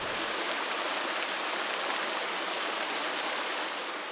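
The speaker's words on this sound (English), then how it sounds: "water flowed into the new construction at thousands of gallons per minute" Water pouring into a newly built canal at thousands of gallons per minute, a steady, dense hiss and rush that stays even and constant, close and moderately loud with no other sounds.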